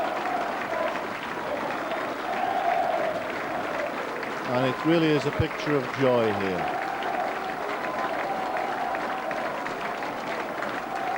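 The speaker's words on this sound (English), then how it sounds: "The crowd staying on to show their appreciation." A rugby league stadium crowd applauds and cheers after a Hull win over Leeds, a broad roar of clapping that swells briefly and sits under a commentator's steady talk.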